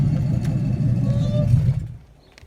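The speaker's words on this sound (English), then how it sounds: "That tensioner sounds terrible." A 5.3 LS V8 swapped into a third-generation Trans Am revs with a noisy, worn belt tensioner, a loud low rumble holding steady before dropping off abruptly near the end.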